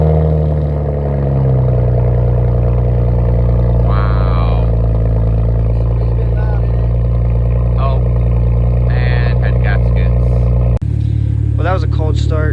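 A BMW 335is with an N54 engine idles after an early-morning cold start, a loud steady exhaust drone with a sharp change near the end, while people talk over it.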